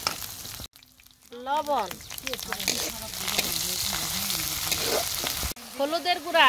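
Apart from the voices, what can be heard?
chicken frying with garlic, ginger and spices in pan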